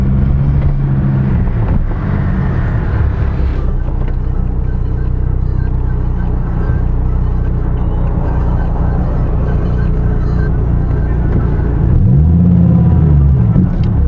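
The 8.4-liter V10 of a 2015 Dodge Viper T/A drives along a canyon road. It gives a loud, steady low rumble throughout, with a deep engine swell near the end.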